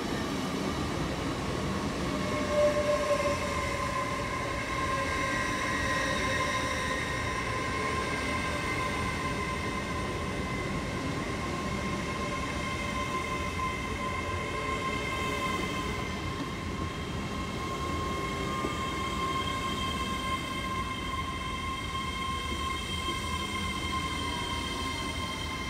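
A train sits at or moves through Bristol Parkway station on the Great Western main line, giving a steady, moderately distant hum with sustained tonal whine layered over it for the whole stretch, and no talking.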